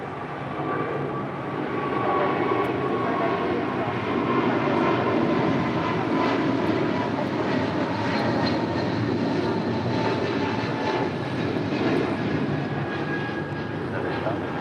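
Airliner taking off from runway 25 right at LAX, a steady broadband jet roar that holds loud and continuous throughout, with faint talk underneath.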